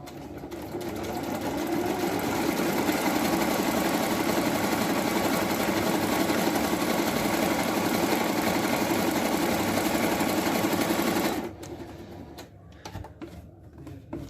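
A Jaguar KM571PP sewing machine runs a triple stitch in a loud, steady, continuous whir for about eleven seconds before stopping, followed by faint handling clicks.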